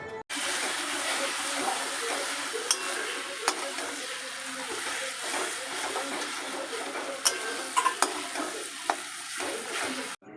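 Lote fish is stirred and fried dry in a pan without water, a steady close sizzle with occasional scraping clicks from the stirring, continuing unbroken and with no voices.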